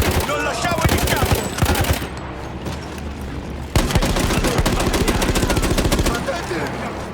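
Rapid machine gun bursts from a World War I emplacement in Battlefield 1, loud and close with a sharp onset, then a pause and another long stuttering burst, with shouted voices mixed into the fighting.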